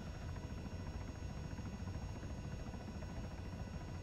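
CH-67 Huron helicopter flying in the video game ARMA 3 during a descent, a constant dense rotor and engine roar that stays loud and steady throughout, with no speech.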